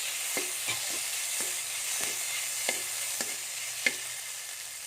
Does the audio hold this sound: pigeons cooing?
no